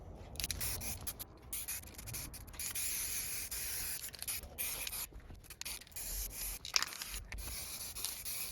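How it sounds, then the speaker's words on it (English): Spray primer hisses in short bursts over an Xbox One S console, close and quiet, with small pauses and light handling noises between passes and no talk. "now we are ready to apply 2 coats of primer"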